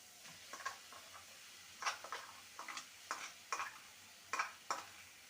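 A spoon stirs radish greens mixed with ground pea lentil paste in a pan, making a series of soft, intermittent scraping and tapping strokes over a faint background sizzle, with no talking.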